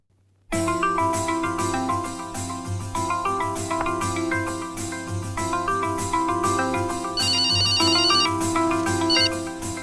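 A melodic electronic ringtone plays loudly and continuously, a repeating musical phone ring with no voices over it.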